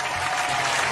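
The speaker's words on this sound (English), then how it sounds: "let's have some applause to begin the day today, Alex." Brief burst of audience applause, a dense even patter of clapping heard alone for under a second.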